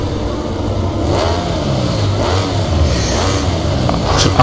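Ducati Desmosedici MotoGP bike in the MotoGP 17 racing game at Phillip Island, Australia, its engine droning loud and constant with rising and falling revs throughout.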